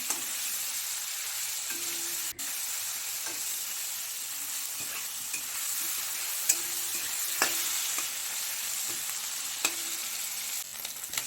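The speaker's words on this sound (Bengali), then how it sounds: "দিয়ে এবার মাছের মাথাগুলোকে একটু ভালো করে ভেজে নেব" Hilsa fish heads with salt and turmeric fry in hot oil, a continuous moderate sizzle broken by occasional spatter pops and light clicks from a utensil.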